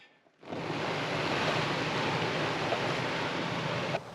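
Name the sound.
water spray hitting Jeep Wrangler roof, simulating rainfall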